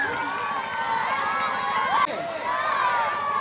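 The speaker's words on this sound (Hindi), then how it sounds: "जोरदार तालियों के साथ पुष्पा राज का स्वागत कीजिए।" Loud crowd cheering and shouting for a stage act introduced as Pushpa Raj at an anchored show, a dense, continuous wall of voices with a brief louder surge midway.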